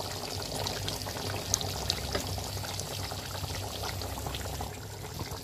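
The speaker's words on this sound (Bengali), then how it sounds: "এখানে চিকেন বোনা হচ্ছে।" Chicken with onion, ginger and garlic cooks in a pot for an Eid party, making a continuous, even bubbling and simmering hiss with a few small pops. There is no talking over it.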